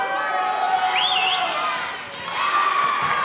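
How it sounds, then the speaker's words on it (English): Basketball game crowd in a gym cheering and applauding steadily, with whoops and a whistle-like squeal rising above the broad roar, dipping briefly before swelling again. "And the crowd gives Johnson a hand for his feistiness"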